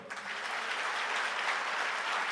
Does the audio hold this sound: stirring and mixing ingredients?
no